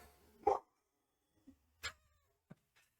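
A pet dog out on a walk gives a few sharp, distant barks and yelps, spaced out against near silence, faint and intermittent.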